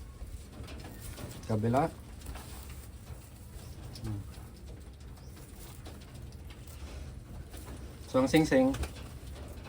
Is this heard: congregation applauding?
no